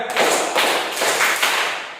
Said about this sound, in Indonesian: Five clap